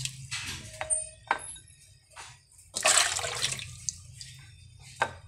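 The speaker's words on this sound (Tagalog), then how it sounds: "Hugasan natin si sili. Dalawang beses." Chili peppers washed twice under running tap water in a sink, with irregular splashing bursts, drips and a louder rush of water midway, close up and with no talking.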